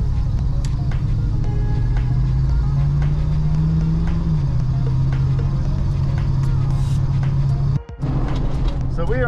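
A Big Block Ramcharger drives on rough, poorly kept Route 1 near Chadds, Pennsylvania, its engine droning loud and steady inside the cabin with a pitch shift midway and a sharp jolt near the end.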